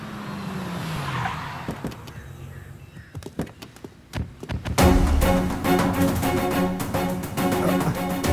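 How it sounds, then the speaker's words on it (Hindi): A car brakes hard to a stop, tires skidding and squealing against a busy film soundtrack, with loud impacts and music surging in behind it. "सर जरा गाड़ी रोकिए।"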